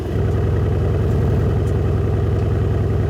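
Car engine idling steadily in sport mode with the exhaust button switched on, a continuous low rumble with light mechanical clatter, close and alone with no talk.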